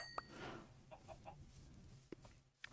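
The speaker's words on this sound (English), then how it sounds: "Let's kill this chicken." A chicken in the video game Minecraft clucks a few times, giving short, faint, spaced-out clucks over quiet background hiss.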